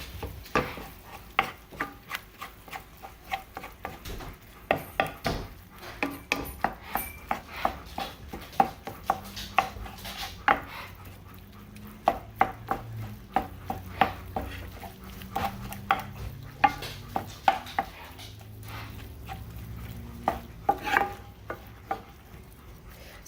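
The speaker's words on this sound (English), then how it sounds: "So right now I'm just getting the hamburger cooked up." Hamburger meat browning in a pan for biscuits and gravy, with a faint steady sizzle beneath frequent clinking scrapes of a spatula stirring and breaking up the meat against the pan, close and clear with no talking.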